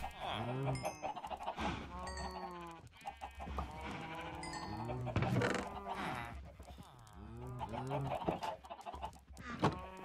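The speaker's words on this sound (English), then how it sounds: "I'm gonna get some XP from murdering a load of cows." Animal cries, bleating and clucking, repeat in bursts over the whole stretch as cows are killed in Minecraft, fairly loud and close, with no talking.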